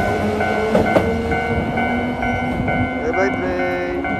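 A train rumbles past nearby with a steady rolling clatter and some tonal squeal.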